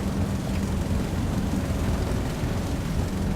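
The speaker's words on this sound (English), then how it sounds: "Then I'm going to slowly ease my throttle up to war emergency power." A Grumman F4F-3 Wildcat's radial piston engine in War Thunder, throttled up to war emergency power, makes a dense, continuous low roar with steady rumbling throughout and no talk.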